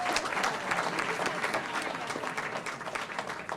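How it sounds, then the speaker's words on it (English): Audience members at an evening economic development pubtalk event give their sponsors a round of applause, a steady wash of close, dense clapping throughout, with some crowd murmur underneath. "Let's give them another round of applause."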